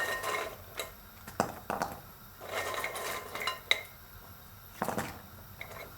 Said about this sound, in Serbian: Malo promešate.